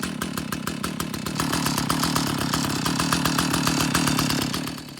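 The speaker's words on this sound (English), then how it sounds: "So just starting the saw here just to warm it up." An old Stihl 056 chainsaw runs after starting, warming up at a steady, loud, rhythmic engine chug close by with no talking, set up for milling with a homemade Alaskan chainsaw mill.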